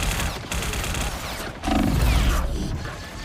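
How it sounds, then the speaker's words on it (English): Rapid turret gunfire in a video game, a dense, loud continuous burst of shots with mechanical rattling, briefly broken before resuming. "I just got destroyed by the turret"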